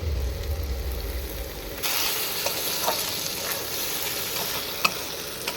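Chopped tomato sizzles and spatters in hot oil with salt and Kashmiri chilli powder as the spice base for a goat meat curry is stirred, giving a steady, close frying hiss with scraping stir sounds and no talking.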